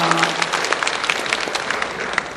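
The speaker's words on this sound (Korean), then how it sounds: "한번 뜨겁게 환영의 박수 해주시기 바랍니다" A church congregation applauds in welcome as a newly registered family of four stands, a steady wash of clapping with scattered sharp claps, close and fairly loud throughout.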